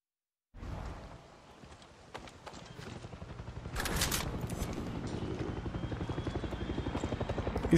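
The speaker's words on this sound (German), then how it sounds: "Das ist doch nur ein Möchtegern-Hubschrauber, der meint, mal so ein bisschen gucken zu können" A helicopter in the video game Far Cry 6 swells in and passes overhead, its rotor thumping in a fast steady rhythm that grows louder and closer over the clip.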